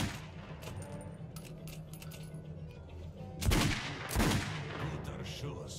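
Gunfire in the video game Metro 2033 Redux: two sharp, loud shots about a second apart stand out over a low, quiet game background.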